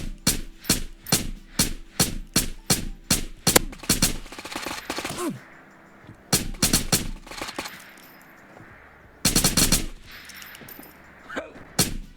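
Gunfire in the VR shooter Ghosts of Tabor: a rapid string of loud, close single shots in steady rhythm, a pause, then a second short cluster and a final brief burst, with faint background between.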